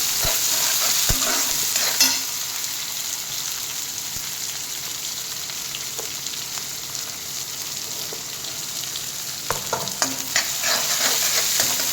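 Onions, garlic and curry leaves sauté in a pan with a steady, close sizzle, broken by occasional scraping and clicking from stirring, and no voices.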